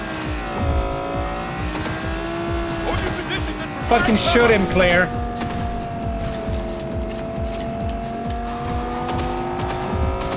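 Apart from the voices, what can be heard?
fast car racing in Cyberpunk 2077 video game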